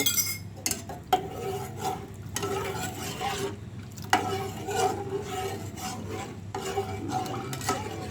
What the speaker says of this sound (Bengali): এখন আমি অল্প অল্প করে কাস্টার্ড পাউডারটা দিব আর নাড়া দিব।